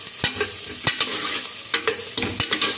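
Onions fry in hot oil for tempering a mutton curry, with a steady sizzle broken by sharp, repeated clicks and scrapes of a spoon stirring the pan.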